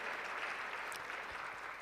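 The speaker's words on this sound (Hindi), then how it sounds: "सभी ज़ोर से ताली बजाकर सबका स्वागत करेंगे।" An audience at a healthcare values event at a hospital research centre applauding, a steady wash of clapping from many hands for a couple of seconds.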